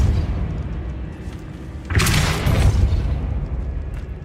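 The Depulso spell is cast in the video game Hogwarts Legacy. A sudden booming whoosh bursts out midway, holds as a broad roar for about a second, then eases into a fading rumble.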